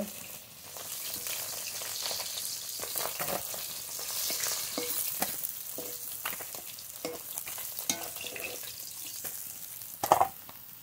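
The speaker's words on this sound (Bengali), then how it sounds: "এই তেলে বাকি মাছগুলো ভেজে নেব।" Pieces of silver carp fish fry in hot oil with a continuous close sizzle, broken by scattered stirring clicks and a sharp metallic clink near the end.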